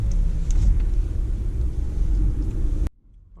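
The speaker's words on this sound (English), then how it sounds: "We're gonna take the Mitsubishi Outlander on a drive. Here we go, we're gonna start it up." A 2015 Mitsubishi Outlander GT engine runs with a steady low rumble heard from inside the cabin, then cuts off abruptly near the end, leaving near silence.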